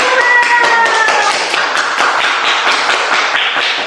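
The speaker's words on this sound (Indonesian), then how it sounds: "Dan kalau sudah beres, kita kasih tepuk tangan." Children at a Sunday children's worship service clapping hands, a quick run of close, loud claps over a few seconds with a brief voice at the start.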